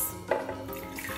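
Apple and mango juice pours into a blender jar, a short, quiet liquid stream with a light splash.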